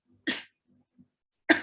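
A single woman's cough during a lecture, two sharp close bursts with a faint throaty sound between them, otherwise quiet.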